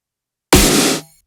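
A typical snare drum sample struck once, a single sharp crack with a noisy, bright decay lasting about half a second, heard alone.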